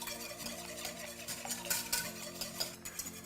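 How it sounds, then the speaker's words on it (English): A whisk beats a mixture in a pan over medium heat, making a soft, rapid scraping and swishing against the metal with faint clattering, quiet and steady. "Give that a good whisk."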